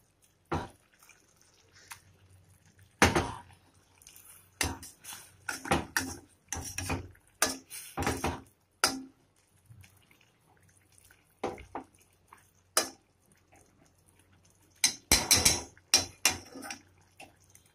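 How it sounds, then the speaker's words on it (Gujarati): Boiled potatoes are mashed in a pot while water boils nearby, giving intermittent close squelching and clattering knocks in irregular bursts with quiet gaps between. "હવે આપણું થોડું આનાથી થોડા બટાકા મેશ કરીશું."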